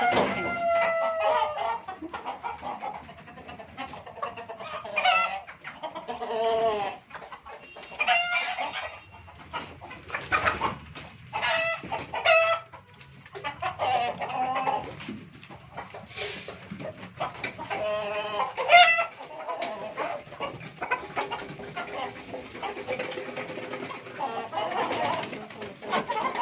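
Chickens on a rooftop cluck continuously and irregularly at close range, with occasional louder calls and a rooster crowing, and some voices and background noise mixed in.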